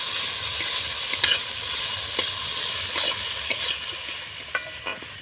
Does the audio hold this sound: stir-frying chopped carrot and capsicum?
yes